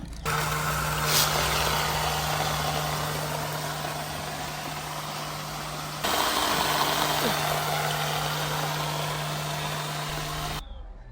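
A small metal tube-well water pump running straight off a power supply gives a steady, loud mechanical drone with a constant low hum and a brief shift partway through, then cuts off abruptly near the end.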